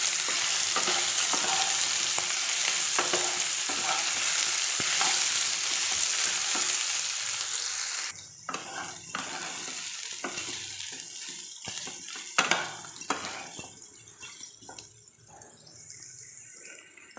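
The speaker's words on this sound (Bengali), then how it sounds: "আলু আর সোয়াবিন একসঙ্গে আমি নাড়াচাড়া করব" Potatoes and soybean chunks fried in hot oil in a kadai, a steady loud sizzle with stirring scrapes that thins out midway into intermittent clatter and crackle, close up with no voices.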